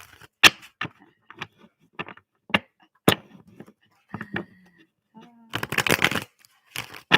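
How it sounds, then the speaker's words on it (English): Sticky tarot cards being shuffled in several short crisp bursts, ending in a longer dense riffle, with speech heard between the bursts. "Sorry, I have to get a good shuffle."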